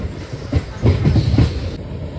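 MEMU passenger train pulled by two locomotives runs past Nallapadu station, a steady close rumble of wheels and carriages with rhythmic clatter swelling midway, then easing.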